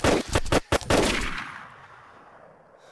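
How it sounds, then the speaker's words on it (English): Another player fires on the character in the DayZ video game: a rapid volley of about seven loud, close gunshots in under a second and a half, then a fading echo into near quiet. "He's shooting me."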